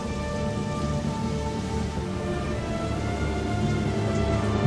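Heavy rain from a storm over the Gulf of Mexico falls in a dense, steady hiss of drops on surfaces. It holds a constant level and swells slightly toward the end, with no voices.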